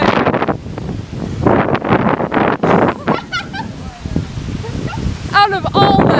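Strong gusting wind during a wind storm, roaring and buffeting the microphone in broad bursts, with excited voices talking over it and a dog barking briefly near the end.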